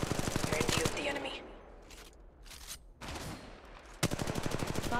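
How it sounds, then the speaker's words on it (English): Bursts of rapid automatic gunfire from the video game Apex Legends, loud at the start and again near the end with a quieter gap between, sharp repeated cracks filling the mix. "Taking fire, brothers."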